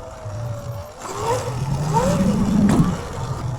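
A Surron electric dirt bike accelerates into a power wheelie, its motor whine rising in pitch in a couple of quick surges over steady road and wind noise, fairly close.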